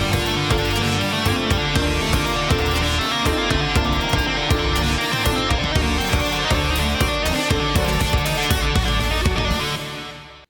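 A guitar plays a fast hammer-on and pull-off exercise with all three fingers, a dense run of quick, evenly flowing notes that rings on steadily before stopping near the end.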